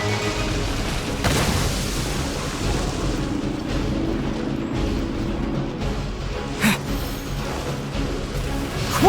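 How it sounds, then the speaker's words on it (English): A divine power attack explodes in the video game Genshin Impact, a dense, sustained rumbling boom with crashing, surf-like roaring that stays loud throughout, with heavier bursts partway through and no talk over it. "That is Osial's divine power"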